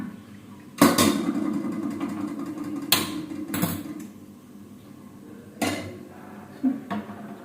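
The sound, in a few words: tempering masala in a pan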